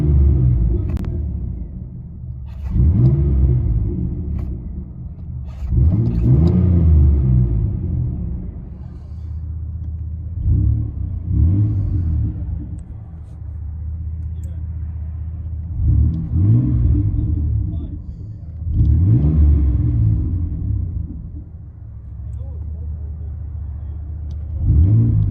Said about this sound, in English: Chevy S10, straight pipe, 4-inch tips, wide pipe setup.